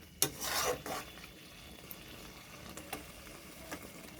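Katla fish kalia masala with spinach paste sautéing in a pan, a burst of close sizzling and scraping stirs at the start, then quieter frying with occasional scrapes.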